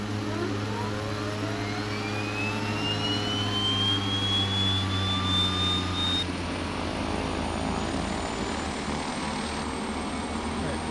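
Right engine of a twin-engine propeller aircraft starting in Microsoft Flight Simulator X, a rising starter whine sweeping upward over an already running engine's steady drone, settling into a continuous loud propeller hum.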